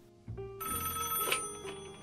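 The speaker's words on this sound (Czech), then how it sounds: "A v tom mu zazvoní telefon." A telephone bell rings as a radio drama sound effect in a detective story set in New York, a loud continuous electric ring that starts about a quarter second in and persists to the end over faint background.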